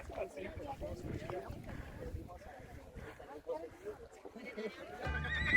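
A horse on a trek in Peru neighs and whinnies faintly amid nearby talk and outdoor bustle, with a louder burst of noise at the end.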